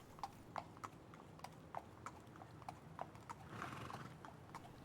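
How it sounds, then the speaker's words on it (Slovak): Horse hooves clip-clop in a steady, even walking rhythm as a prince rides away with a princess in a fairy tale, fairly near, with a brief whinny toward the end and no talk. "Mladý princ vysadil Snehulienku na koňa, aby ju mohol odviesť do svojho zámku"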